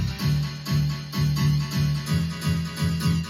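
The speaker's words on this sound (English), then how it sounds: "And then here I also have my piano chords," Programmed piano chords pulse in a steady, repeating rhythm, thickened by production effects into a full, warped, moderately loud sound with no voices over it.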